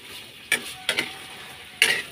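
Chicken feet sautéing in a pan before being mixed with mung beans: a soft, steady sizzle with three brief scraping stir strokes from a utensil.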